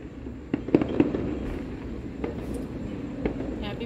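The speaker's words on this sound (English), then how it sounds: "I'm gonna watch the fireworks over here." Fourth of July fireworks pop and crackle at a moderate distance, several sharp bangs clustered early followed by scattered fainter bursts over a continuous background rumble, with no voices.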